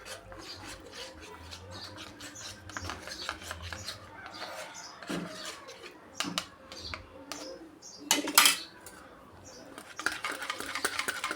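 A spoon scrapes and rubs against a bowl while custard powder is stirred into cold milk, giving quiet, irregular rasping strokes with a few louder knocks and clinks.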